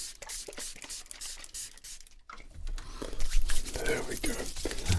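A few quick hissing bursts of whiskey misted from a spray bottle during a barbershop shave, close and soft, followed by gentle crinkling and patting sounds as a voice murmurs quietly nearby.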